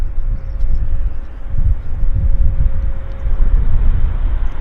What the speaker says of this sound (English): There's United Airlines, inbound from Chicago.